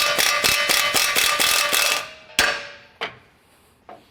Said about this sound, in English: remove our lower ball joint nut from the knuckle